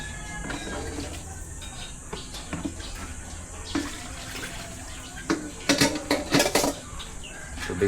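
Tap water runs in a kitchen sink while chicken is being cooked, with a low steady flow broken by splashy bursts and clinks of dishes toward the end, and a few voices talking.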